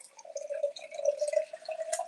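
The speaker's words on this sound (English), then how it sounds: "I'm going to take the jam jar and I'm going to pour water in the top." Water is poured into a glass jam jar, a close trickling, gurgling stream with a rising bubbly tone that runs steadily for about two seconds, no voices.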